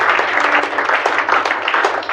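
A church congregation applauds during a French-language sermon, a dense, continuous burst of clapping close and loud from start to finish, with a few voices mixed faintly underneath.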